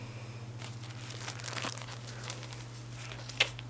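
Packaging of ostomy bags crinkles as it is handled, with soft scattered plastic crackles over a low steady hum and a single sharper crinkle near the end.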